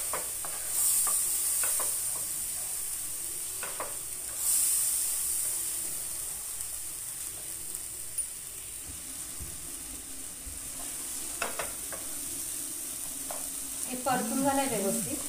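Tomatoes sautéing in a pan for a mushroom masala, a steady close sizzle broken by scattered stirring scrapes, with a brief voice near the end.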